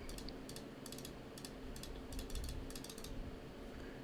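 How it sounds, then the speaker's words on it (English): A computer mouse clicks in a scattered series of short, crisp taps, recorded on a budget Tonor TC30 microphone at a desk, close and fairly quiet over steady room noise with no talking. "Now I'll do some clicking around with my mouse."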